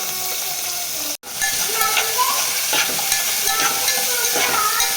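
Potato and spinach stalks with green chillies fry in a pan and are stirred, giving a steady close sizzle and hiss with scraping stir sounds and a brief dropout near the start; no voices.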